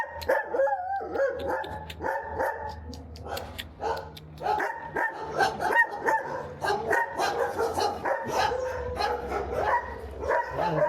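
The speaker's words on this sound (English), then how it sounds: "There's a lot of different big dogs here." Several big dogs at a shelter bark continuously, overlapping yelps, woofs and whimpers filling the space at close range with no pauses.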